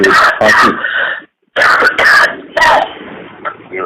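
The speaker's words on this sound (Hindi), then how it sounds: "ये खांसी कल से आज शुरू हो गई।" A 33-year-old man with a fever coughs and clears his throat repeatedly, harsh rasping bursts close up with a brief silence between fits.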